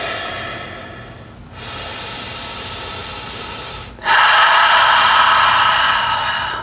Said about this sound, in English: Holding here, taking deep breaths.